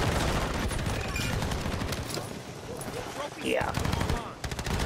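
Automatic akimbo pistols fire in rapid, loud bursts in Modern Warfare III multiplayer, dense rattling shots crowding the whole stretch, with a brief word spoken over them.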